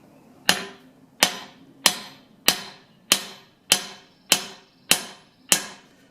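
A hammer driving a wheel stud into the wheel hub of a 73 05 Eagle bus: eight sharp metallic strikes at a steady, even rhythm, close and clear with no talking.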